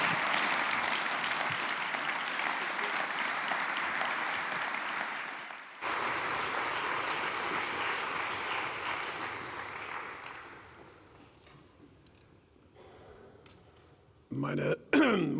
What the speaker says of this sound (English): Thank you so much to all the panelists, and I ask you for a round of applause.